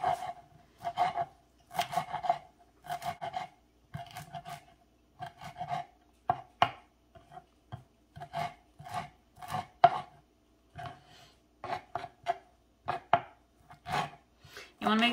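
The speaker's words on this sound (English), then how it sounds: "You want to make sure you cut your cilantro up real nice and fine" Fresh cilantro chopped with a knife on a board, rapid clusters of crisp, close taps in quick bursts separated by short pauses, alone without talk.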